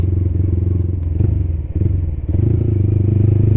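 A motorcycle fitted with a Creempie aftermarket exhaust rumbles with a deep, bassy throb, the engine note briefly dipping and surging as the throttle is blipped, loud and close with no talking.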